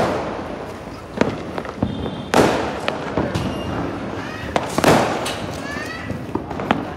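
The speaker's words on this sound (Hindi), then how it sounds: "हाँ पटाखे चल रहे हैं" Diwali firecrackers and fireworks bursting outdoors, with several sharp cracks and thumps scattered irregularly over steady crackle and background noise, while a person talks to a pet nearby.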